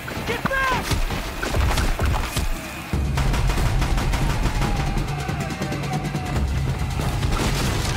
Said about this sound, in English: Oh, he has a machine gun?